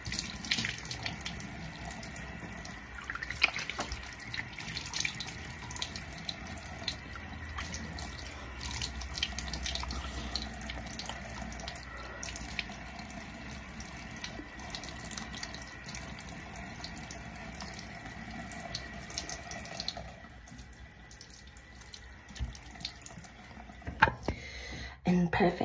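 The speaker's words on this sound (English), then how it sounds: "Now I'm just gonna go ahead and rinse this off with a bit more water." A tap runs into a sink while someone rinses their face, a steady, moderately quiet splashing stream that goes on for a long stretch with a few louder splashes and drips near the end.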